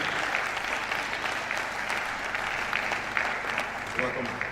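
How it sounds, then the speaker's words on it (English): An audience at a University of Abuja ceremony applauds in a sustained, dense patter of many hands that holds steady throughout, with some voices mixed in. "So help me welcome, with a round of applause, our own distinguished Vice Chancellor, Professor Aisha Sani Mekudi."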